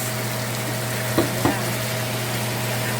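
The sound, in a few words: sautéing eel with garlic and onion in a pan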